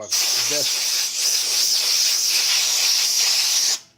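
A small desk air compressor blows a steady, loud hiss of air for nearly four seconds, cutting off abruptly at the end, with a brief low murmur near the start.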